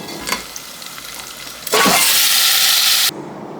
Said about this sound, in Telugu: ఇది ఒక టేబుల్ స్పూన్ అల్లం వెల్లుల్లి పేస్ట్ చక్కగా మంచిగా వేగనివ్వాలి